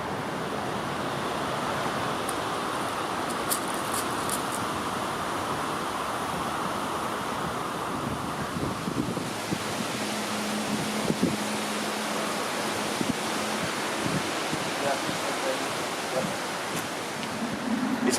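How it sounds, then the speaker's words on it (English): Wind blows across a carp fishing lake in England as a continuous broadband rush with gusty buffeting, steady and moderately loud, with a few faint knocks and a brief hum partway through. "It's a bit windy, so I hope you can hear me all right"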